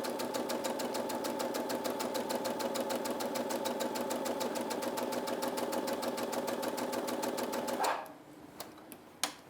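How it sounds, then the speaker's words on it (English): A sewing machine stitches a seam through two layers of fabric for a satin-lined bonnet, a steady rapid needle rattle running loud and close for about eight seconds before stopping, followed by a few faint clicks. "as long as both pieces of fabric fall into our seam allowance, then we should be fine. So I'll keep on going and not worry about that"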